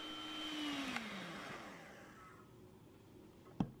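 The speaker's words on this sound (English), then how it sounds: "then I'm using my electric hand mixer, which is on very high speed." An electric hand mixer runs on its highest speed, whipping egg whites for a Belizean white fruit cake. It gives a steady motor whine that drifts lower in pitch, and a sharp knock comes near the end.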